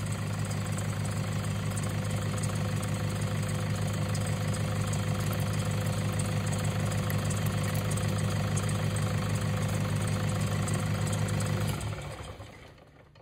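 A Toyota Hilux engine with a faulty alternator idles steadily and loudly at close range, a constant droning hum that cuts out and fades away near the end as the engine dies.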